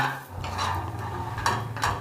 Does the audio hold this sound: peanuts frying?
yes